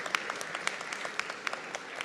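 Short burst of audience applause at an education week launch event honoring an astronaut, distinct individual claps in a quick, fairly loud patter from a nearby crowd.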